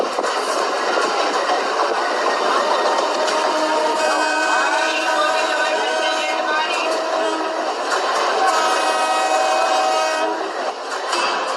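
A night train pulls in loud and close with a sustained horn blaring over rumbling wheels and rattling carriages. The horn swells and shifts pitch through most of the passage.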